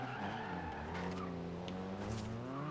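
A Subaru BRZ drift build in Forza Horizon 2 sliding sideways, its engine revving steadily beneath continuous tire squeal and skidding, loud and close throughout the short stretch.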